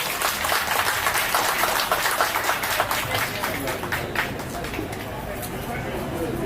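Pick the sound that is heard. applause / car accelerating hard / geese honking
applause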